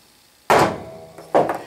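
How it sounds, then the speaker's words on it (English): A hammer strikes a center punch on a cast iron vise part held in a C-clamp. Two sharp metallic blows land about a second apart, loud and close, with no talk. "let's center punch"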